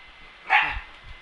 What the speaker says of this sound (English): Stop getting her hypered up so she'll stop barking.